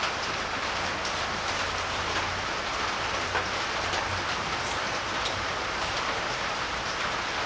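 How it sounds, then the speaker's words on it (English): Steady rain pours outside on a hot, muggy day, a dense unbroken hiss of drops striking surfaces that holds at an even level throughout, with no voices over it. "Nice and muggy with this rain coming through."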